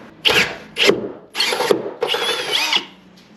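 Power drill with a 1/2 inch bit boring into metal on a Jeep WJ rear suspension install, four short, loud, close bursts of whining drilling separated by brief pauses.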